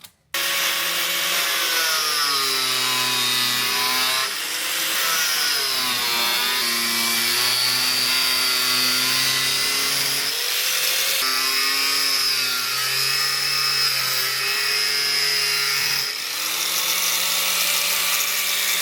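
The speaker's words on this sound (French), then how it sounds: "Il va falloir découper un petit morceau du blindage aussi." A power tool cuts into the bumper of a Dacia Duster 4x4 to make room for an Anbull winch. It gives a loud, steady, close whining grind that wavers in pitch and runs without a break.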